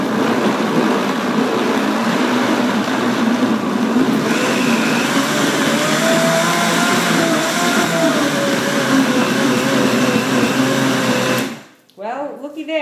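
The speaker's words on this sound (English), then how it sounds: "put it here on the Vitamix base. And I'll cover it up. And then I'll give it a whirl" A Vitamix blender whirs loudly and steadily while blending compost soup, the motor holding a dense, continuous roar for about eleven seconds before cutting off abruptly near the end.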